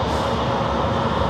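Train rolling past below an elevated vantage point near San Diego airport, a steady loud rumble with no break across the short stretch.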